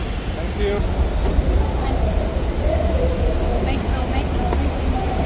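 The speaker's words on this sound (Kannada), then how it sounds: "ಸೊ ಇವಾಗ ನಾವು ಮೆಟ್ರೋ ತಲುಪಿದ್ದೇವೆ, ಮೆಟ್ರೋ ಸ್ಟೇಷನ್." Steady low rumble and broad noise of a busy Bengaluru metro station, with distant voices and a train humming through the background.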